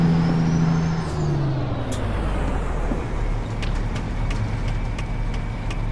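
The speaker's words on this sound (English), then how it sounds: "you can actually hear me downshift through all 4 gears in a higher range" A truck engine drones steadily up close inside the cab while the driver downshifts through four gears in a higher range, the engine note shifting beneath a constant road roar with a few faint clicks.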